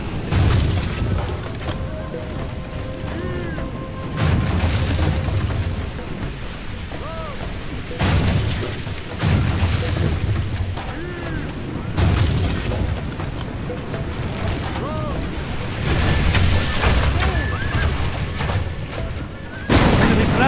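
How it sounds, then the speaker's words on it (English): Repeated heavy booming thuds of battering rams striking castle gates during a Total War siege battle, recurring roughly every few seconds amid a dense, noisy battle din. "our thrice cursed foes are attacking our gates with rams!"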